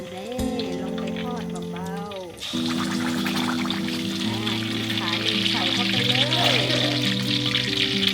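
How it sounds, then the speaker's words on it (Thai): Pork leg skin fries in hot oil for a Yunnan-style braise: a steady, dense sizzle fills the clip and thickens after a short break, with tonal, voice-like lines running through it. "ทอดให้หนังพอสุกค ่ะ"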